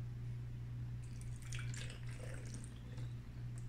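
Water poured into a small container, a light trickling and dripping heard close up over a steady low electrical hum, with no talk.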